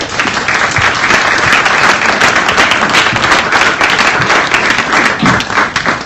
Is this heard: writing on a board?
no